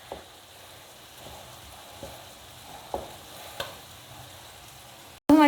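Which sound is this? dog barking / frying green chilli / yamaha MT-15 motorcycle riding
frying green chilli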